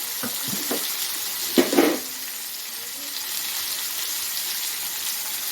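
Onion and tomato sizzle in a pan for chutney with a steady, close frying hiss, broken early by a few soft stirring knocks and scrapes.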